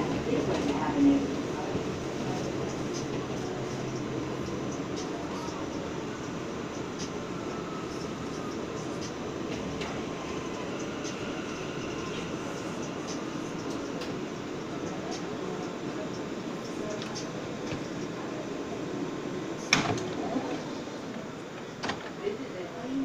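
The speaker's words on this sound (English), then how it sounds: "This is a Cleveland Jay local train." An R179 J subway train rolls along on a late-night ride, heard from inside the car as a steady rumbling drone with occasional clanks and a sharp rattle near the end.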